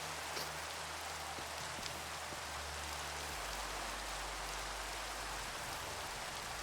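Rain falls in a modded Minecraft world with shaders: a steady, faint, even hiss of rainfall that continues without a break, with no voices.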